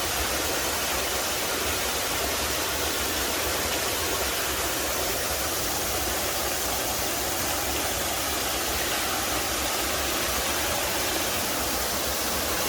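Alongkorn waterfall in Sangkha, Surin, roaring as a dense, steady wash of falling water with no breaks, close and enveloping, alone without voices.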